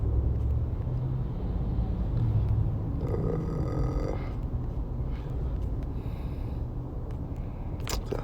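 A car drives along a road, giving a steady, close engine and tyre rumble that holds from start to finish with no one talking.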